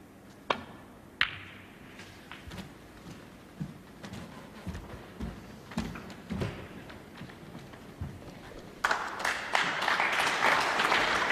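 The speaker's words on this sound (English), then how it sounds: "deserved a round of applause" Scattered claps at a snooker match, with clacks and taps early on, before a fuller round of audience applause swells near the end.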